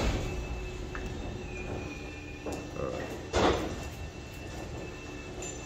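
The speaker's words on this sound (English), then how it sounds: "So now we've got the garage doors going up." Motorized garage doors roll upward with a steady mechanical hum, a squealing rattle and a brief louder clunk; someone says one short word.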